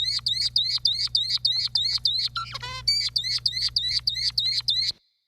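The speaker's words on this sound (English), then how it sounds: "here's an example of an abnormal zebra finch song that developed in a young bird, in a bird that never heard a tutor" Abnormal isolate song of a young zebra finch raised without hearing a tutor: a rapid, clear run of repeated identical high chirps in steady rhythm, broken once by a buzzy harmonic note, close and alone.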